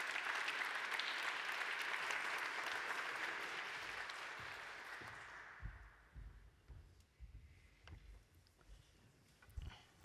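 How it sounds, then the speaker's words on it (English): An audience at an economic forum in Vienna applauds a speaker, a full wash of clapping for about five seconds that tapers off into low rustling and thumps near the microphone. "Please give a warm applause to Mr. Gentiloni, and please take the floor."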